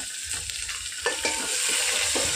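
Onions added to a pan with curry leaves, frying with a strong, close sizzle that swells after a few stirring knocks and scrapes, with no voices.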